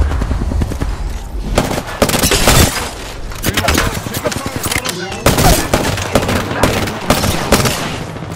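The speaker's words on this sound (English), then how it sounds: "Getting shot at." Rapid gunfire crackles through a video game firefight, with dense, loud bursts and overlapping shots that hardly let up, mixed with impact and shattering effects.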